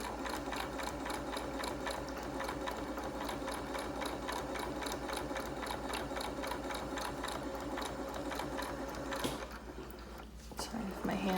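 A sewing machine stitches ribbon onto a fabric mask with a fast, steady mechanical whir and rhythmic needle clatter close by, pausing briefly near the end.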